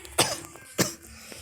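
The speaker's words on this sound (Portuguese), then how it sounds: "E também vai ter muita tosse nesse vídeo" Two sharp, harsh coughs from a man with the flu, about half a second apart, close and fairly loud, with quiet between them and no talking.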